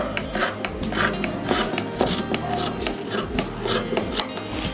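Scissors snip and rasp through blouse fabric while the sleeve is cut, a close, steady run of crisp cutting strokes and rubbing against the table with no voices.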